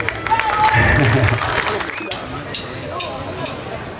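Audience applause after a Neapolitan song performance, clapping mixed with crowd noise and talk at first, thinning after two seconds into a few scattered claps and room murmur.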